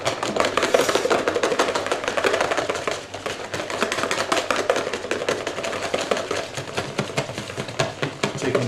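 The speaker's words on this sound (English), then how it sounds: "In a thin stream, just quickly whisk this molten sugar, and then whisk like mad." A whisk beats molten sugar, poured in a thin stream, into a chocolate torte mixture, making a fast, dense, continuous clatter against the bowl that stays loud and close throughout.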